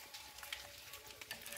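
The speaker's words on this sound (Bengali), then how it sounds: "এখনো বৃষ্টি পড়ছে।" Light rain falls in a village, a faint, steady, crackling patter with no voices.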